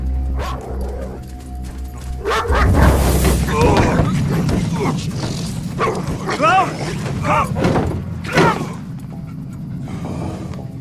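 A dog barks and yips repeatedly nearby in excited bursts, with whimpering between barks and people talking over it.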